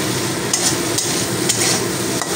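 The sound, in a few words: small shrimp being stirred while frying in oil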